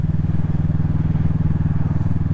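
A Kawasaki Vulcan S motorcycle engine idles high and runs very rich, a steady, even low throb that continues unbroken and close by.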